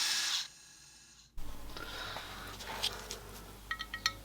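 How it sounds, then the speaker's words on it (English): A hand drill drives an M4 tap into aluminium, a short loud whir cutting off abruptly, followed by quiet scraping, faint clicks and brief mechanical ticks near the end. "I'm just using an M4 tap here in a drill just to blast through"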